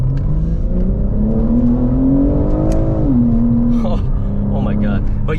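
BMW with a modified exhaust pipe revving, a loud steady drone that rises and then drops back, with a voice talking over it.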